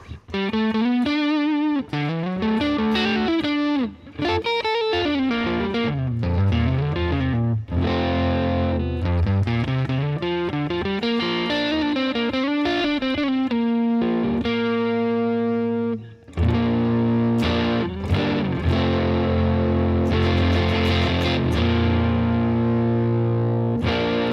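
A distorted electric guitar plays a smooth, sustained riff with rich harmonics, loud and continuous, with a brief pause midway before ringing chords resume.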